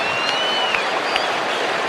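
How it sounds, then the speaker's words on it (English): Stadium audience at an Australian football match applauding a medal presenter, a dense, even wash of clapping with a few faint whistles, steady and moderately loud throughout. "Give him a round of applause"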